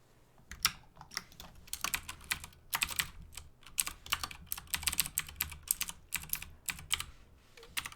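Computer keyboard typed steadily while writing game code, with dense, close clusters of crisp key clicks in quick bursts and brief pauses, and no talking.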